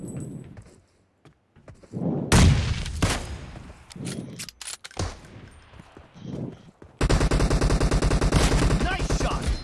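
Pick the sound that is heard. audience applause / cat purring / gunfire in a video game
gunfire in a video game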